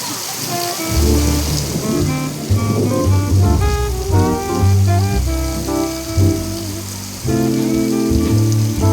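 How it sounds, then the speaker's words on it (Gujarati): Heavy rain falls steadily in a loud, dense wash under layered music, with no talk. "ભાઈ જબરજસ્ત વરસાદ આવી રહ્યો"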